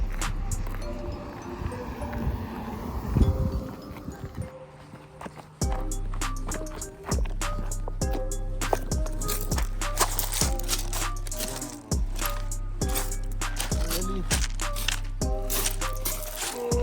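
Sea water splashes and churns close by as someone wades into the cold ocean at Gaspé, the steady wash breaking into repeated sloshing strokes. Faint voices are heard.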